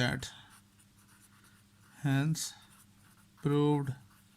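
Pen or marker scratching across a board during a mathematics lesson, with short strokes between brief voiced sounds from a speaker nearby.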